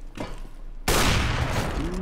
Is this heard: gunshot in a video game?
yes